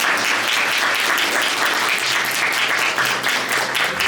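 Wedding guests at a Korean wedding ceremony applaud the bride and groom as they bow, a steady, dense roar of clapping from a large hall audience that holds evenly throughout.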